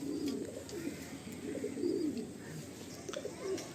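Madrasi pigeons for sale give low, repeated cooing in rolling bursts, steady and close, with faint chirps and no talk.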